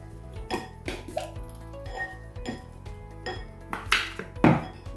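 Homemade coleslaw dressing with added black pepper being mixed in a bowl, giving a run of soft scraping clinks of utensil against the dish, close and irregular, with a couple of louder knocks near the end.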